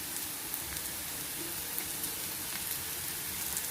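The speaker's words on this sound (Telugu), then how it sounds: "ఒక 1/2 నిమిషం మనం కొద్దిగా మెత్తబడేంత వరకు వేయించుకుంటే చాలు" Chopped onion pieces frying gently in a pan while being softened for an egg curry, giving a steady, soft broadband sizzle with faint crackles throughout, heard alone.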